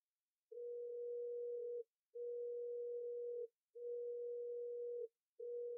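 A telephone ringback tone plays on an unanswered call: four steady, even-pitched beeps, each lasting a little over a second and separated by short gaps, clean and isolated against silence.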